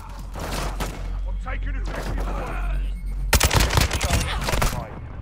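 Gunfire in the video game Call of Duty: Modern Warfare II, loud bursts of shots that crowd the second half over steady game noise, with voices talking earlier.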